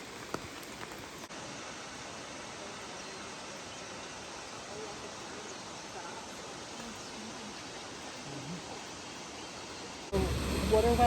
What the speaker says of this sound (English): It's raining, but we're at Akaka State Falls. 442-foot waterfall